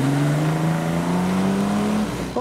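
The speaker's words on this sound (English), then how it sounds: "Well, that sounds like a V6." A classic car with what sounds like a V6 pulls out of a car meet, its engine close and loud in one steady rising pull before a quick shift at the end.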